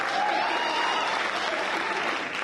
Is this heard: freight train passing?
no